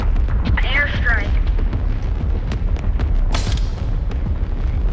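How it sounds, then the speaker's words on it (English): An airstrike explosion in the video game Animal Company on a magma map: a deep, sustained rumbling blast fills the whole stretch, loud and dense, with a brief sharp burst partway through. "Airstrike."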